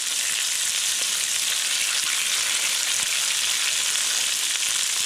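Minced garlic, green beans and dried minced onion fry in bacon grease with a dense, even, bright sizzle that holds steady at close range, no talking over it.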